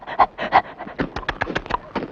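A dog pants rapidly and loudly close by after catching a thrown biscuit, a quick rhythmic train of breathy huffs that runs the whole short stretch.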